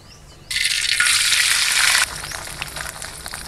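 Mantis shrimp hit hot oil with a sudden loud sizzle that roars for about a second and a half, then settles into a softer, crackling fry.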